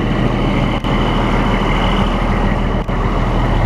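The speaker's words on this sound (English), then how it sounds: "another haul for the Kenworth" Kenworth truck running steadily close by, a continuous loud diesel engine drone with two brief dips in level, no talking.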